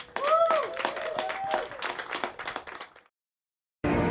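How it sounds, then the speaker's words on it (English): An audience claps for a pianist being introduced, a short burst of hands clapping with a voice or two rising over it, tapering off into silence before a sudden loud noise cuts in at the end. "please give a warm round of applause for the one and only Mr."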